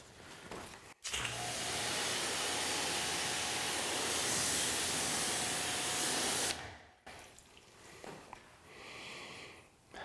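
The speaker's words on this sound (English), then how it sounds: "So here's my pressure washer again." A pressure washer with a spinning tip sprays water onto a car's paint in one loud, steady hiss that runs for several seconds, then cuts off and leaves quieter background noise.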